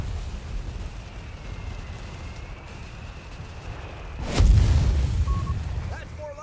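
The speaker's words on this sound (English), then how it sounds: "Counter barraging the mortar with delayed fuse." Mortar counter-barrage in Company of Heroes 3, firing with delayed fuse: a sudden heavy blast lands partway through with a rumbling low-end tail. Before it there is steady battle ambience and a thin whistle.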